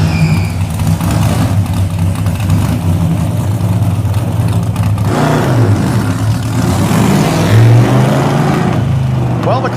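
A 1969 Pontiac Firebird engine rumbles loud and close during a clutch test in an alley, rising in pitch as it revs and drops back, while a voice talks over part of it.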